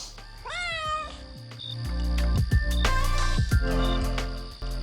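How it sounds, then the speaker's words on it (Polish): A cat at a remote hut in the Beskid Niski hills gives several distinct meows, rising and falling, close and clear, with rustling and handling sounds after them and no talking. "Z żywym kotem."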